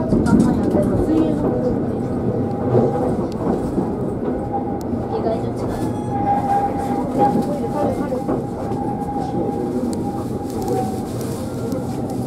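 A Keihan Keishin line train running through onto the Kyoto subway Tozai line, heard from onboard as a steady, loud rumble with a faint whine rising midway, continuing under the running noise throughout.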